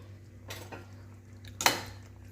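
A spoon scrapes and knocks against a cooking pot as tamarind is mixed into sambar, with a soft stirring shuffle and then one sharp metallic clank, close and fairly quiet with no talking.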